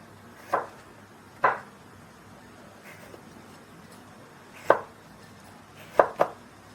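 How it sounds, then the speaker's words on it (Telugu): Vegetables for hakka noodles being thinly sliced with a knife, heard as five or six sharp, close board strikes at irregular intervals, the last two in quick succession, over a quiet background. "ఇలా సన్నంగా కట్ చేసుకోవాలి."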